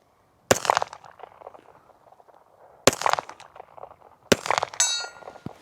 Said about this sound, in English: Let's just take a couple shots and see if we can hit anything.